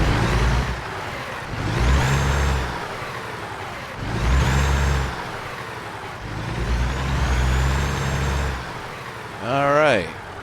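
A Peterbilt 386 truck engine in American Truck Simulator revs in repeated swells, rising and falling four times in a deep, throaty roar; a voice speaks briefly near the end.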